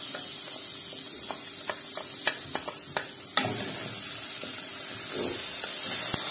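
Diced onions dropped into hot vegetable oil over high heat for an okra dish, a steady close hiss of frying that jumps louder midway as they hit the oil, with a few small clicks earlier and no talk.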